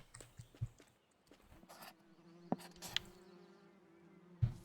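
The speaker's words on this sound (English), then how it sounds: "Here's some bees." Bees buzz softly and steadily beside a lake trail in the fishing game Russian Fishing 4, joined by a faint low hum and a few sharp clicks and taps.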